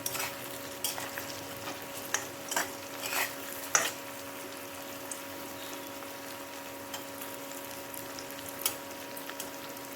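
Onions with tomato sizzle and fry in a pan, a steady crackle broken by several sharp stirring scrapes and clinks early on, then a quieter, even sizzle.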